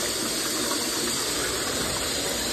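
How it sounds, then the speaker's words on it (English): A toilet cistern filling with water from a newly connected supply to the 6 litre mark, a steady close hiss and gush of running water throughout. "connected the water, filled up to the 6 litre mark."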